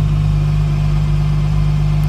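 A 2020 Porsche GT4 Clubsport race car engine idles steadily and close, a deep constant low rumble with a strong even hum and no revving.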